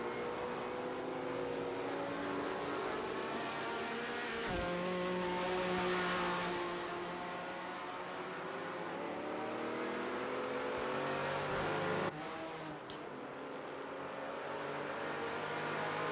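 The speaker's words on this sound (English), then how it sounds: "So you see the 3 cars coming down into Toboggan." Touring race cars from a 1970 championship round at Buenos Aires in a racing video game, engines droning loudly and continuously with rising revs and shifting pitch as several cars run together, with an abrupt change near the end.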